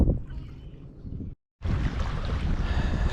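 Wind gusting across an open reservoir on an April day, a steady broad rush with buffeting against the microphone, breaking off into a brief silence before returning stronger.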